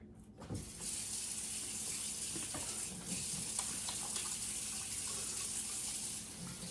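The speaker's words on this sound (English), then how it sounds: "Let me wash my hands right quick." Water runs from a kitchen tap while hands are washed, a steady close gushing hiss that starts abruptly and continues almost unbroken, with faint splashes against the sink.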